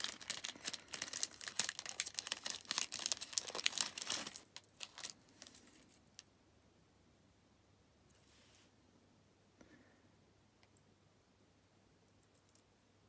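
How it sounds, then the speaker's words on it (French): Paper crinkles and rustles loudly while a swap package is unwrapped, a dense burst of crackling for about four seconds, then fading to a few faint scattered rustles. "je suis désolée pour les bruits de papier"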